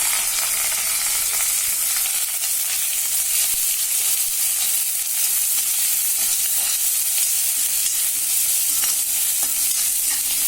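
Loud, continuous sizzling of onions sautéing in a hot pan, a dense crackling hiss with occasional scrapes of stirring.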